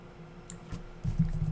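A handful of light keystrokes on a computer keyboard while Python code is entered, the clicks soft and close over a low background hum that grows slightly louder near the end.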